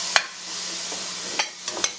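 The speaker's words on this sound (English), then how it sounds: "So a dry pan, we're just going to go in and quickly move that around." Marinated shrimp pushed around a dry hot pan for a string bean and shrimp Caribbean curry, giving a few quick scraping stirs with a faint sizzle underneath, alone and close.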